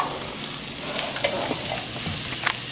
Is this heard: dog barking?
no